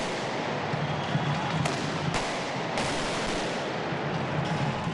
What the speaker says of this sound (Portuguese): manifestantes invadiram e jogaram rojões na sede da Federação das Indústrias.